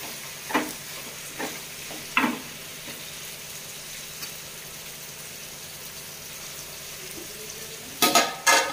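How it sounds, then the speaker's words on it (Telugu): Chicken frying in oil in a pan makes a soft, steady background sizzle, with a few scattered scrapes and knocks and a louder cluster of clatters near the end, close by with no talking. "ఈ చికెన్ కూడా ఆయిల్లో ఫ్రై అయ్యేంత వరకు కూడా చక్కగా మగ్గించుకున్నామండి"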